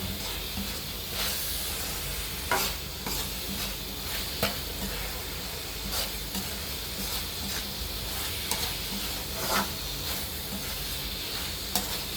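Pork curry cooks in a pan with a constant loud sizzle and frying hiss, broken by occasional scraping clicks of stirring, with no voices.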